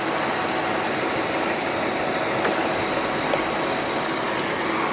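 A van's engine idles steadily at close range, a constant even drone that holds without change from start to end, with no talking over it.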